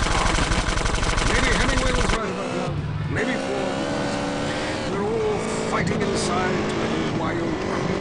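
Gunfire rattles in GTA San Andreas, where someone shoots from a car. Rapid loud bursts open the scene, then give way to engine noise and a talking voice.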